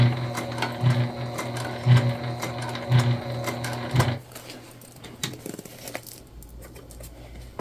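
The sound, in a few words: sewing machine sewing a crossbody bag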